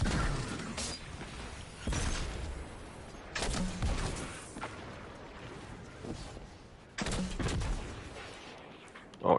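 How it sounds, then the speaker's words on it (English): Destiny 2 on PS5 has gunfire in several sharp bursts of rapid shots, separated by short pauses, loud and close in a game battle. "Who's shooting me?"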